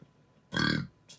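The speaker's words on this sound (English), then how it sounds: "Oh, I got burp." A single loud, close burp lasting about a third of a second, raspy and low, preceded and followed by near silence with a faint breath at the end.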